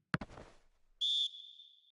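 A referee's whistle at a football match gives one clear, shrill blast of about a quarter second that trails off into a fading echo, heard alone right after a brief thump.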